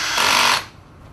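A power drill drives a self-tapping screw into a pre-drilled aluminium aquarium bracket in one brief, loud, high whir that cuts off after about half a second, leaving a faint hum.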